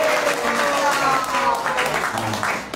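An audience at a Bhagwat katha religious gathering at a math in Vrindavan applauds in a steady, dense wash of clapping that holds for a few seconds. Voices sound faintly underneath the clapping.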